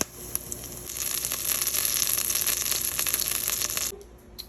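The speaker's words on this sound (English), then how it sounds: "And fry it for about a minute on each side." A birria taco with meat, cheese, onions and cilantro, folded and frying in a pan: a steady, bright sizzle for about four seconds, then it quickly dies down, with no talking.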